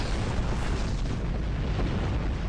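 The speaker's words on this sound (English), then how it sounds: "Polaron cannon, okay." Polaron cannon fire in the Star Trek Online video game, a dense rumbling barrage of booming blasts that runs without a break.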